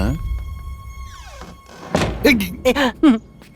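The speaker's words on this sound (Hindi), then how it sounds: "एक और दरवाजा मुंह पे बंद हो गया।" A door thuds shut in someone's face during a tense family visit, a single dull knock early on, followed by people talking.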